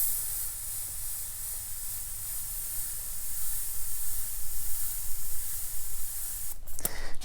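An Omni dual-action airbrush sprays paint at full trigger stroke down to a fine dagger point, a steady close hiss of air that swells slightly toward the end before a brief sputter, with no talking.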